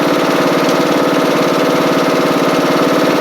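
A Craftsman LT1000 lawn tractor with a Briggs Intek engine runs loud and close, a rough, pulsing idle with an uneven throb, while the engine has a backfiring problem.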